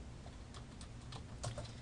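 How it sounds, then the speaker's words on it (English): Quiet clicking of keys on a computer keyboard, a few scattered keystrokes at an uneven pace over a low steady background hum. "Now, when we get to Lesson 1C, we're going to be starting to type."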